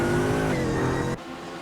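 A GT3 race car at the Spa 24 Hours lets out a loud, close, high-pitched engine scream with rising revs for about a second, then the sound drops abruptly to a quieter, lower drone.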